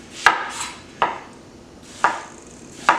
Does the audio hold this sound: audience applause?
no